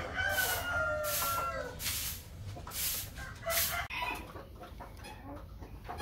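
Brahma chickens in a farm pen, with a rooster crowing repeatedly at close range among clucking hens, several loud calls in the first four seconds before quieter background clucks.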